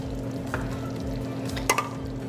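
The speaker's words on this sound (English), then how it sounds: "I'm gonna stir it up. Once I get this stirred up, then I'm gonna reduce the heat." A spoon stirs a chicken casserole mixture in a pan with soft rhythmic scraping and gentle clinks, nearby and moderately quiet over a low steady hum.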